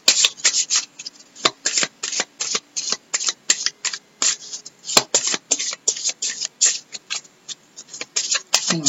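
Oracle cards shuffled by hand for a full-moon guidance reading, a steady run of crisp, close riffling bursts with brief pauses between them, alone without any talking.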